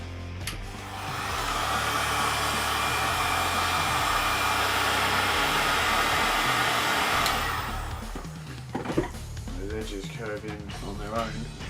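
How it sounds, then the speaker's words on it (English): A heat gun blows hot air onto material to curve a costume shin guard, giving a loud steady whooshing roar for about seven seconds before it cuts out and a person starts talking. "Give it its curve shape, take the heat gun."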